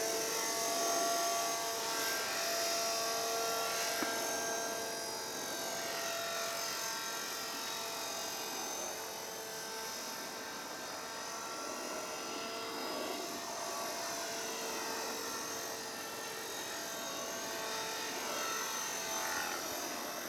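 A Belt CP V2 radio-controlled helicopter flying in idle-up mode, its steady whining rotor and motor drone sustained, fairly loud, with slight rises and falls in pitch as it maneuvers.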